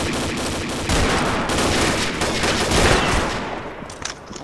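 Rapid, dense sniper rifle gunfire with the FR-F2 in a video game, a continuous loud barrage of overlapping shots and impacts that keeps going with no pause and eases only slightly near the end.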